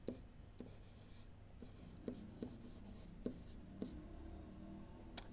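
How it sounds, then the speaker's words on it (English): A pen writes on paper while working through a math calculation, with faint close scratching strokes and small taps at intervals, quiet over a low steady room hum and no speech. "I will actually write it in the form that we're going to be using."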